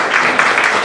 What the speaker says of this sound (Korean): 발표 잘 들었고요. 네, 박수 부탁드립니다.